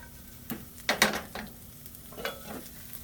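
An egg frying in a hot pan while food is stirred nearby: soft continuous sizzle punctuated by a few distinct utensil scrapes and clicks, fairly quiet, with no talking.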